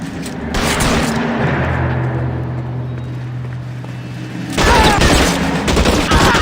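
A shootout in the video game L.A. Noire fires bursts of rapid gunfire, with a dense volley at the start, a droning lull in the middle, and another loud flurry of shots near the end.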